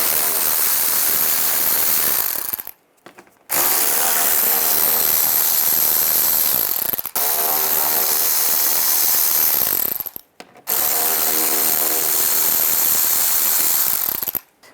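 A ratchet with a 7mm socket working screws loose under a 2010-2017 Chevy Equinox: three long runs of steady, buzzing clicks, close and loud, separated by short silent pauses.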